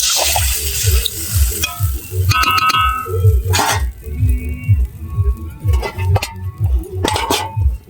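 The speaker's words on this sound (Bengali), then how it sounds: "এবার আমি জল ঢেলে দেবো। ভালো করে নেড়ে ছেড়ে দেবো।" A spatula stirs curry in a pot just after water has been poured in, giving repeated rhythmic scraping strokes and a wet bubbling sizzle, with a few metallic clinks against the pot, loud and close.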